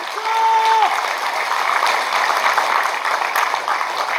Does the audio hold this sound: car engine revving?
no